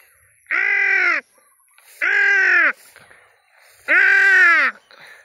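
Three loud, harsh crow caws, each about a second long, separated by short pauses, close by and clear.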